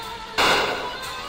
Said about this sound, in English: The shells going off from the cannons was modified from this script.